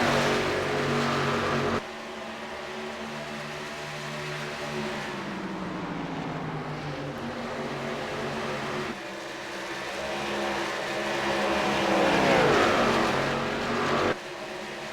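Race cars in a WFO Race League event roar continuously, engines droning and shifting pitch as they accelerate past, loud and steady throughout with a brief dip and a late rise in intensity.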